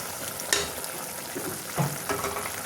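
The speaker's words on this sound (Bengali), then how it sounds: "এইবার আমি এই মাছগুলো শাকের ভিতরে ঢেলে দিব।" Fried small fish poured into a pan of greens frying, giving a steady close sizzle with a couple of sharp clinks and soft thuds as they land.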